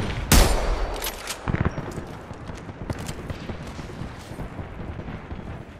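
Gunfire in the Apex Legends video game: a sharp loud shot burst near the start, then a second cluster of shots, followed by scattered softer pops over a busy game soundscape.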